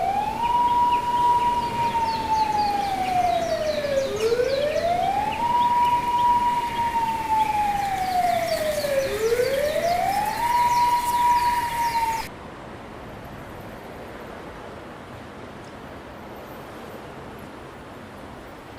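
Police siren wailing in a steady rising-and-falling cycle, loud and close, sounding about three sweeps before cutting off abruptly into low background hiss.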